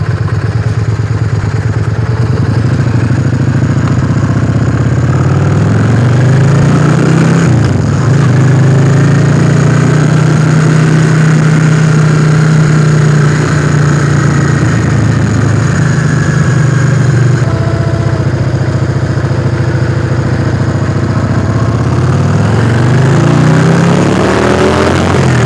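Yamaha XV 400 Virago motorcycle engine idling up close, a steady loud low rumble with slight shifts in pitch and a faint mechanical clatter throughout.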